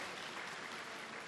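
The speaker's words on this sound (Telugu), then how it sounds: "ధ్యానాన్ని గట్టిగా చప్పట్లతో అభినందించుకుందాం" A short, fairly quiet burst of steady applause from an audience after a meditation session, an even patter of many hands with no voices.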